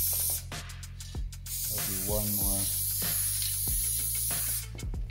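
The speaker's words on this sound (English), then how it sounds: "You don't want to go too thick when you're spraying your paint, whether you're doing it on a canvas or a wall." Spray paint can hissing paint onto a canvas in bursts, close and fairly loud, with someone speaking briefly between the sprays.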